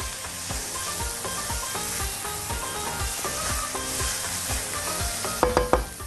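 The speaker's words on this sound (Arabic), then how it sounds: "يلا نقلب بقى كله على بعضه" Garlic, onion and black pepper stirred in a hot sizzling pan, a spoon scraping and knocking in a steady rhythm over a constant frying hiss, close and continuous, with a couple of sharper clatters near the end.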